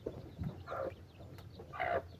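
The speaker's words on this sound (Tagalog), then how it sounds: "Tingnan nyo manok na yan guys" A native chicken on a farm gives a few short, soft clucks in irregular bursts, close by and alone, with no talk over it.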